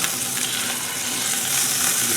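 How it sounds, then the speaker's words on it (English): Angus New York strip steaks sear in a hot skillet with a steady, loud broadband sizzle and crackle that holds evenly for a couple of seconds, with no talking. "these steaks are just cooking beautiful"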